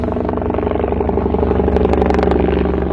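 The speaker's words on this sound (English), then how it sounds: "A Pakistan Army helicopter circles bin Laden's compound." A Pakistan Army helicopter circles overhead above a compound in Abbottabad, its loud, steady rotor thump and engine drone continuous throughout with no voices.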